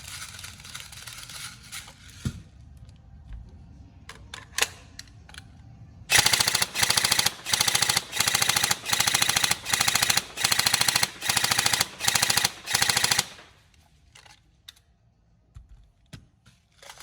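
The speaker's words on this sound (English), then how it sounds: "Very good rate of fire." Tokyo Marui M4A1 NGRS airsoft electric gun firing full auto, about eight loud, rapid mechanical bursts in an even rhythm, with scattered handling clicks before and after.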